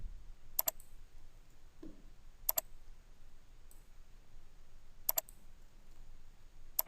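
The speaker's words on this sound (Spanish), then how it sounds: "Entonces, clic, lo sueltan en el siguiente punto y realizan la curva." Computer mouse clicks sound while placing nodes for a curve in vector drawing software, four sharp double clicks spaced about two seconds apart, close and crisp over quiet room hum.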